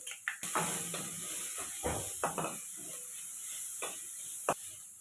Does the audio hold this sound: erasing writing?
no